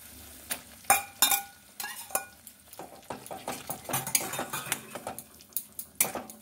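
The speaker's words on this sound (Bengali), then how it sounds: "গ্যাস অফ করে আমি পাতাটা মেশাবো।" Coriander leaves being stirred into pickle in a pan with the heat off, with a spoon scraping and clinking against the metal in close, irregular strokes, with no voices.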